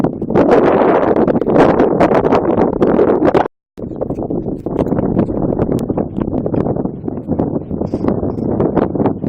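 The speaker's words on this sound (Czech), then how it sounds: "Vyrazili jsme s Lupem do hodně větrného počasí." Strong wind buffets a microphone outdoors while a Loop model glider is flown, making loud, gusty rumbling bursts with a brief cutout partway through.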